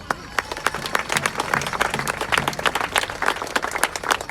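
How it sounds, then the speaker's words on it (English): A crowd at a powwow applauds the color guard, with a burst of clapping from many hands that swells and holds steady, moderately near, with some voices mixed in. "One big round of applause once again, ladies and gentlemen, for your color guard."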